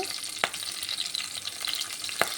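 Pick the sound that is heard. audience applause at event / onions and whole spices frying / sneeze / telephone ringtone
onions and whole spices frying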